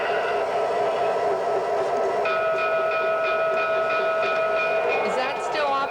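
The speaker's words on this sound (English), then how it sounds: "we're going to begin with this freight train over here, the Burlington Northern Santa Fe" A Burlington Northern Santa Fe freight train rumbles past, then a long multi-tone train horn blares steadily, loud and close, over continuous rail noise.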